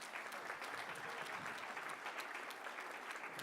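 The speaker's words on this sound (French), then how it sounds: "On l'applaudit." Steady applause from an audience at a French awards ceremony for solidarity programmes, greeting a secretary of state coming up to present a trophy; dense, even clapping throughout with no voices over it.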